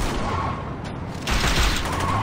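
Dense gunfire from the video game Saints Row 2 on the street: a loud, continuous wash of shots with no pause, rising a little in intensity partway through.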